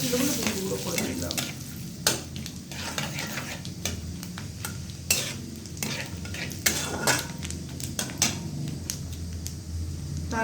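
Whole cloves, cardamom pods and torn bay leaves fry in hot oil in a pan, a steady close sizzle broken by repeated scraping and clinks of a spatula against the metal.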